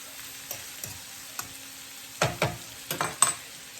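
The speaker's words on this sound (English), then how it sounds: "After letting the beef saute for a minute, the shrimp going to go in for about maybe another minute" Shrimp and beef sautéing in a pan: a soft, steady sizzle with a string of distinct scraping stirs and clacks of a utensil against the pan, close up and with no talking.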